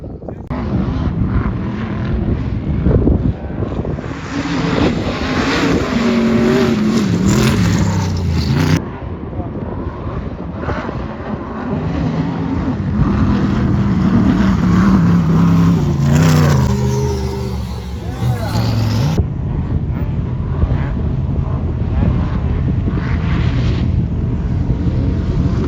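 A turbocharged Pro R sand car at a Glamis dune race revs hard with a loud, roaring engine that surges and drops in repeated bursts, heard alongside voices talking.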